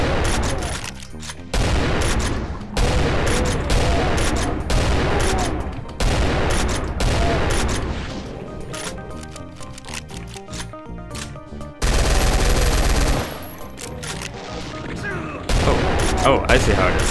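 Heavy gunfire from the shooter High Noon Drifter, including shotgun blasts, sounds as repeated loud bursts and volleys across the stretch, and a voice talks intermittently between the shots.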